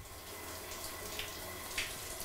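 Shower water running in a bathroom, a steady, fairly faint hiss of spray that holds constant throughout with no talk over it.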